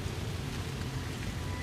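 Steady rain falls in the No Man's Sky video game, a constant dense hiss with a low rumbling undertone, even and unbroken throughout with no voices over it.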